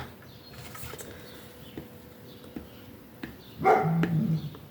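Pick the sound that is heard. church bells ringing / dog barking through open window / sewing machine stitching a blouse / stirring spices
dog barking through open window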